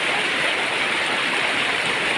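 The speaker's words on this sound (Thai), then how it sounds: "น้ำไหลแรง" Strong flowing water at a stream crossing makes a steady, loud close-up rushing roar that holds unbroken throughout, with no talking.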